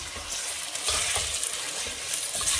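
Meat sizzling with onion in a saucepan for pilau, a dense continuous frying hiss with occasional stirring scrapes, close and fairly loud with no talk.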